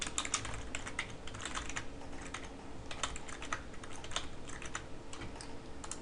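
Fingers type on a computer keyboard while entering a name during a computer setup, a quiet, fast, irregular patter of key clicks throughout, close and alone with no voices.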